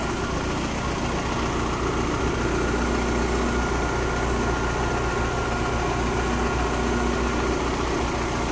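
Honda Civic EK with an H2B engine idling close by, a loud, steady, low rumble with an even hum and slight roughness throughout, no voices.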